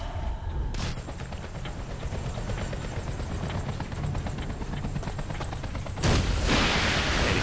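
Continuous gunfire in the video game Battlefield 2: Modern Combat, dense rapid automatic bursts under a constant battlefield roar that swells louder near the end.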